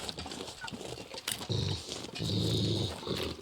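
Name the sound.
dog growling in video game The Long Dark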